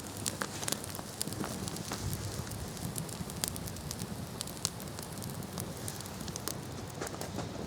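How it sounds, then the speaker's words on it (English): Outdoor campfire burning sticks, a dense bed of continuous crackling and sharp pops scattered irregularly throughout, close and fairly quiet, with no voices. "As the fire consumes the sticks, that's how you want to add it."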